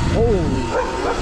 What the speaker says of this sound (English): This is the sound of them pit bulls getting ready to chase me